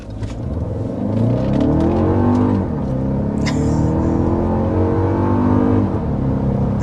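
A Toyota Grand Highlander hybrid accelerates hard, its engine note climbing in pitch through a couple of rising sweeps and holding a strong, steady drone close up, with no voices.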